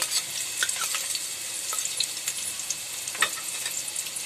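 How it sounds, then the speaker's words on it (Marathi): Half an onion frying in hot oil as a tempering for Malvani crab curry, giving a steady soft sizzle with scattered crackles and spits, close and alone. "आता मी त्यात हा अर्धा कांदा कापून घेतला आहे फोडणीसाठी."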